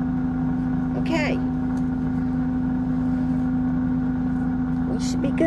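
An air fryer cooking Parmesan wings runs its fan with a steady, droning hum and a tonal whine, close by, while a person talks intermittently over it.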